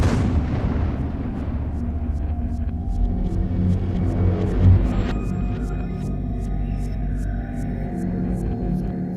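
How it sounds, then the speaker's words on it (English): A black powder blast in a historical reenactment: a loud booming report that rolls into a long low rumble and slowly decays, with a fainter second thump midway and steady background noise afterward. "Black powder can go off like that."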